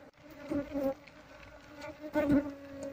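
Apis cerana honey bees buzz close by while a colony is moved out of a hollow log, with faint humming drones that swell and fade as individual bees pass, quiet and intermittent.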